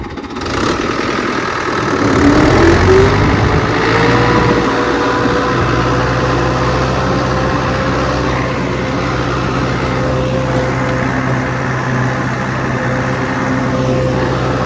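Fiat 640 85 hp tractor working a disc harrow, engine rising in pitch as it revs up, then holding a loud, steady, close diesel drone.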